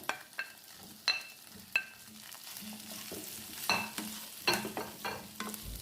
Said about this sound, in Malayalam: നന്നായിട്ട് ഇളക്കി യോജിപ്പിക്കാം